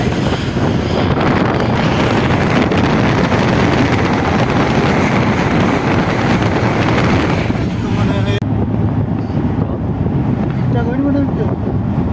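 Strong wind at Lumle during a trek in Nepal buffets the microphone with loud, continuous roaring gusts, with voices talking underneath.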